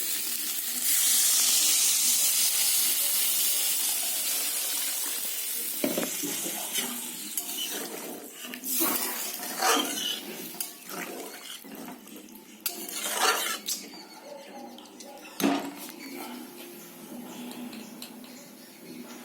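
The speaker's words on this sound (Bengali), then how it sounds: "এবার আমি এতে জল দেবো।" Water poured into a pan of fried cumin, ginger and tomato paste: a loud burst of hissing sizzle that fades into bubbling, with spoon scrapes and clinks against the pan, close up and no talk.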